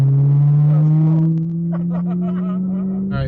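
A Ferrari on a road trip holds a loud, steady engine drone that rises slightly in pitch as it cruises, with faint sounds of people inside the car.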